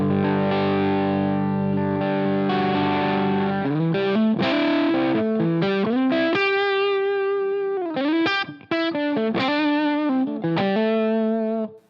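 Electric guitar running through a Line 6 Helix emulation of a Shin-ei Uni-Vibe with the lamp bias turned all the way down, starting on a held distorted chord, then moving into a busy run of chopped notes and bends, loud and continuous.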